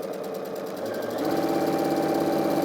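A sewing machine chain-pieces quilt pieces with a 1/4-inch seam, giving a steady fast mechanical whirr that grows slightly louder and denser partway through and runs continuously throughout.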